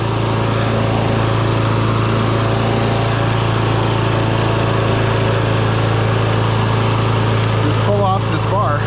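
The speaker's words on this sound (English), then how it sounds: "We got the mower started." Gas-powered walk-behind lawn mower, just started with a cordless drill, running at a steady idle hum close by, with a few clanks near the end.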